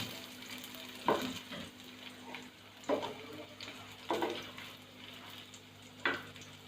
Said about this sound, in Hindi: फ्राई किशमिश को हम कस्टर्ड में डाल देंगे और अच्छी तरह से हल करके इसको पूरे कस्टर्ड में हम फैला देंगे